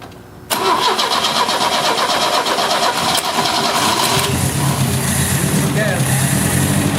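After a second of quiet, an Opel GT's engine cranks and catches on its first start in 30 years, then settles into a loud, steady idle up close while people talk in the background.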